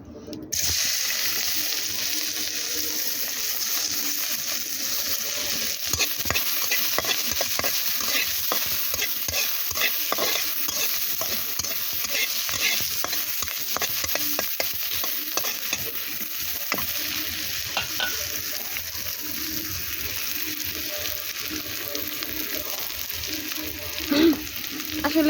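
Chopped onion fries in a little oil in a pan on a clay stove, with a steady crackling sizzle and frequent stirring scrapes running close by throughout.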